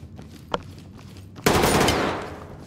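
Gunfire rings out in the tactical shooter Ready or Not: one sharp shot, then a loud burst of rapid automatic fire that fades out over about a second.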